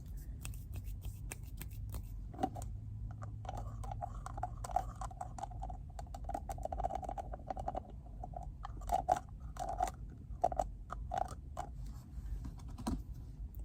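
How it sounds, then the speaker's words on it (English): Lotion-covered hands slap and rub together close up in a quiet car, producing soft wet smacks and squelchy rubbing in an irregular rhythm, faint and intimate with a low background rumble. "we now have lotion hit sounds once again."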